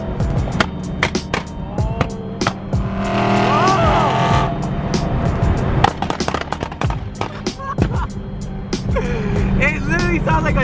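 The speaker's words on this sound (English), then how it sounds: "We got a bunch of loud BMWs" A group of loud BMWs, one with a big turbo and the rest running straight-pipe exhausts, rev and crackle with rapid, gunfire-like pops throughout, loud and close, with voices faintly in the mix.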